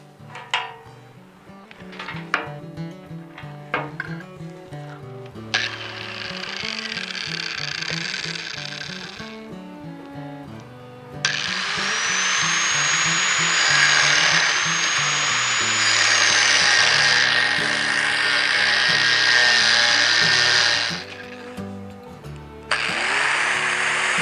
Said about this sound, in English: I'll just do it with a cutoff wheel on my grinder.